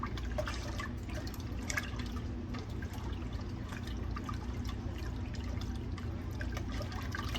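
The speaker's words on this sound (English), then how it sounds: "we're going to bring this to a simmer, and then we're just going to pour it over our pickles" Hot spicy brine being poured over pickles in a jar, a soft continuous trickle with scattered drips and splashes, faint and close, with no voices.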